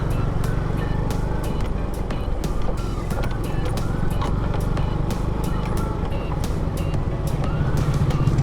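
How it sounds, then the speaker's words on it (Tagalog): Tricycles and other road traffic roll past in a continuous loud engine drone, with a voice talking over the noise. "Ayan mga naka-tricycle guys."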